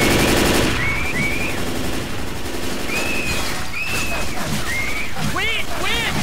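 Rapid gunfire in the co-op zombie shooter Left 4 Dead 2, loud dense bursts running through the whole stretch with chirpy game effects layered on top, mixed with voices.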